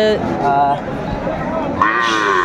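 Sahiwal cattle, bull calves at a busy weekly rural cattle market, give loud, close, drawn-out moos, two calls in quick succession with crowd murmur underneath.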